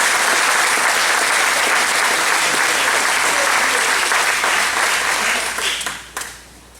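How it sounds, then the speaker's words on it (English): Loud, dense applause from an audience at a community association's annual meeting in Fairfield Harbour, North Carolina, steady from the start and tapering off abruptly near the end. "let's give him a round of applause"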